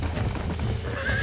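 A horse in the video game Red Dead Redemption gives a short, loud whinny rising at the end, over a muffled bed of hoof and game noise.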